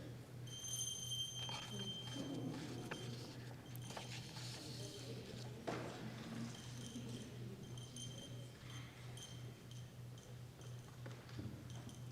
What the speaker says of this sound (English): As the sound of the bell continues to resound